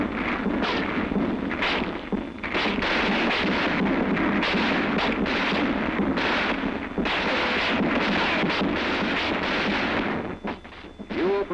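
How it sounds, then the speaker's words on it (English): Platoon machine guns and automatic rifles open fire in a military training film showing a squad defending its area. Loud, rapid bursts of gunfire repeat almost without pause for about ten seconds. "He is taken under fire by the first platoon machine guns located with the first and third squads."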